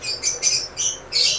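Many birds chirp in a kitchen while potatoes are cooked, bright rapid tweeting in several loud bursts close by, with no talk over them.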